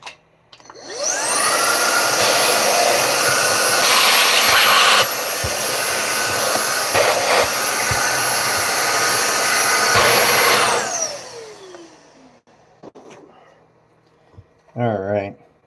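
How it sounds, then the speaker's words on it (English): A vacuum cleaner sucks up carbon fiber dust during an RC basher car build, roaring loud and steady for about ten seconds before winding down, with a voice briefly heard after it stops. "now I'm gonna get my vacuum"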